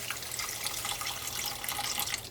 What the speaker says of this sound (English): We're going to pour in about a cup of beef broth.